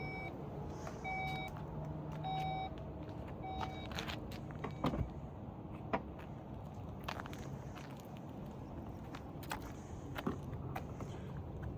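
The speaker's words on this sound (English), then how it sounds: "you could press this button, it'll close the trunk and lock the vehicle." A 2025 Porsche Cayenne E-Hybrid's power trunk closes and locks: a series of electronic beeps, then soft motor whirring and several sharp thunks and clicks nearby, with no talk.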